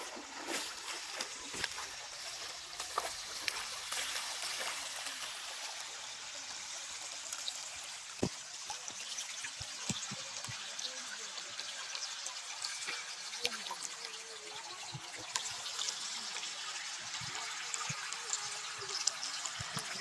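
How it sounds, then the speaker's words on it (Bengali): Stream water flows steadily over the rocks at Sada Pathor, a continuous broadband rushing and trickling with occasional small splashes, moderately loud throughout. "কেমন লাগে এই পানির রিমঝিম শব্দ?"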